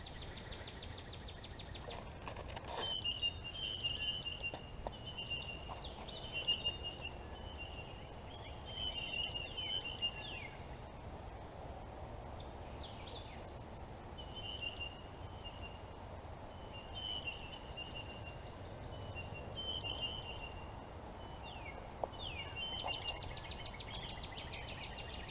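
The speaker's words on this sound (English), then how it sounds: "So we're gonna sit here over the pond for a minute and listen to these birds real quick." Birds call and chirp in short scattered bursts over a quiet pond, a soft steady background hum beneath them throughout.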